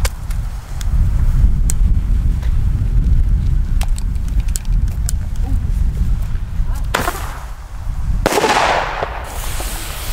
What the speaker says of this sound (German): Der Wind ist halt sehr heftig.